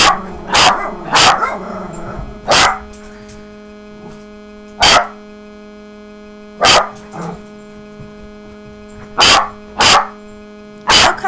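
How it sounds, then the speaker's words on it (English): Dogs barking in a room, several loud sharp barks and short bursts spaced irregularly over a steady electrical mains hum, with no talking. "And you can hear my dogs in the background."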